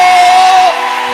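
A church congregation cheering and acclaiming during a service, with a loud wash of crowd whoops and shouts topped by one sustained high yell that breaks off partway through.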